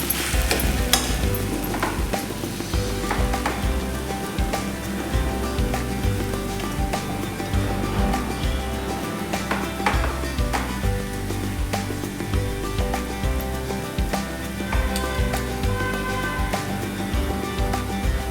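Turmeric and jaggery fry and get stirred in a pan for a sweet mango pickle, giving a steady, close sizzle with repeated stirring scrapes throughout and no talking.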